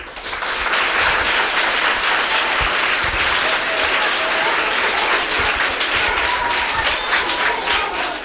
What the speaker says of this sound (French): Les enfants, on applaudit.